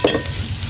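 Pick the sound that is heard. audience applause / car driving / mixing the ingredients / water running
mixing the ingredients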